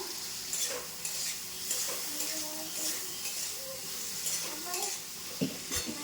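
Fish and potatoes fry with three green chillies and salt in a pan, a soft steady sizzle under repeated stirring and light clinks of a utensil against the pan.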